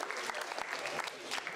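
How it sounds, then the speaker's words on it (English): A workshop audience applauds a participant with steady, dense clapping that carries through the whole short stretch. "let's give her another round of applause"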